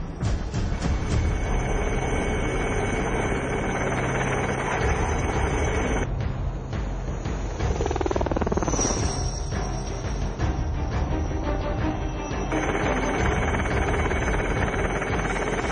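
A Cheetah helicopter's engine and rotor roar loud and continuous, changing in tone midway as it operates at high altitude over the Siachen Glacier.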